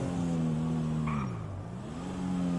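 A car drives in a roleplay video game, its steady engine hum dipping in pitch as it slows, then rising again as it picks up speed, loud and continuous with no speech.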